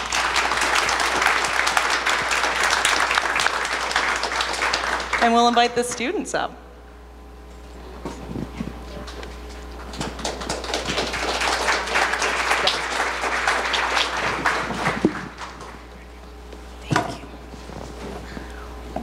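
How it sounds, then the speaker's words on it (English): An audience applauds at a data science event in Utah, a steady burst of clapping that fades out, with a presenter speaking before and over it. "giving these three amazing individuals a round of applause"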